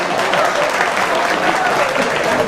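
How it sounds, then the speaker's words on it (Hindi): An audience bursts into loud, dense applause at a spoken talk, a steady wash of many hands clapping throughout, close and unbroken. "एक बार जोरदार तालियां बजा दीजिए"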